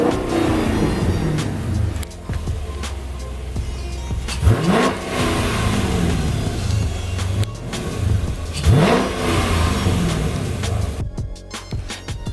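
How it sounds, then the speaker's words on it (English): A Dodge Challenger Scat Pack engine revving up and down repeatedly, pitch rising and falling in waves, loud and steady throughout. "playing, revving the engine up."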